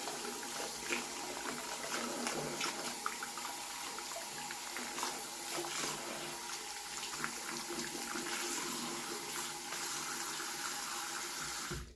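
Tap water runs steadily into a broken sink as a restored G3 My Little Pony toy's hair is rinsed out, a continuous close rush of splashing with no talk over it.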